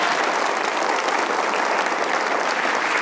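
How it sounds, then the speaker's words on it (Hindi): Studio audience at a talk show clapping loudly and steadily, a dense uninterrupted burst of applause close up for about three seconds. "इनके लिए तालियां होनी चाहिए एक बार"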